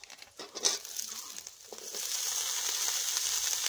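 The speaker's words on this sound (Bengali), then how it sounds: "এখন এখানে কেটে রাখা সবজিগুলো দিয়ে দিচ্ছি।" Chopped cauliflower, potato and carrot hit hot oil in a pan with green chilli and break into a steady sizzle, which grows louder after a few scraping and clattering sounds as the vegetables go in.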